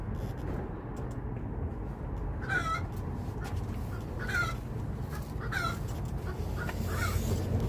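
Backyard chicken clucking from a nesting box, with several short bursts repeating at close range over steady outdoor background noise.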